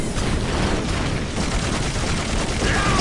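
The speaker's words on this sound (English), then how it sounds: "Shooting." Dense, continuous gunfire rattles through a battle in the strategy game Dawn of War: Winter Assault, a loud, unbroken barrage of overlapping shots with no pauses.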